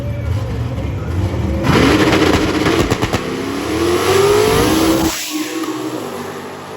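A C6 Corvette and another car launch on a drag strip during Sick Week 2024, engines roaring and climbing in pitch through the run with rapid crackling, then dropping away as they pass, loud and near.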